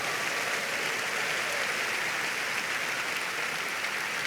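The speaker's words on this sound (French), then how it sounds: "Acclamez fort pour le Seigneur" Congregation at a church sermon applauding and cheering loudly, a steady dense wash of clapping and crowd noise sustained evenly throughout with no breaks.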